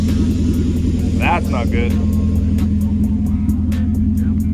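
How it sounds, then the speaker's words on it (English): Nissan S14 idling outside a house on open headers with no exhaust, a loud, steady, rough low rumble that runs continuously while someone speaks briefly over it. "So this is the sound note of the S14 right now. Outside the house running."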